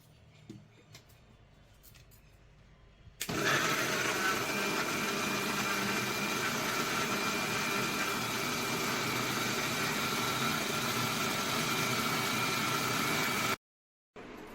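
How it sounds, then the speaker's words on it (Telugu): A mixer grinder blends coriander and green chili with water. Its loud, steady whirring starts abruptly, runs for about ten seconds and then cuts off. "ఇప్పుడు మిక్సీ పట్టుకోవాలి"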